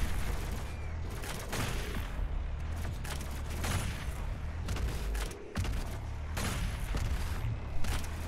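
Heavy gunfire fills the shooter game DOOM Eternal, with dense bursts of shots, booms and blasts in a nearly continuous barrage, loud and close, with brief dips between volleys.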